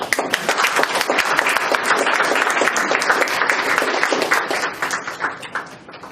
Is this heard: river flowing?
no